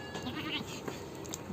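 A goat bleats at a duck-raising farmstead, its calls short and close, rising over steady outdoor background noise with no talk.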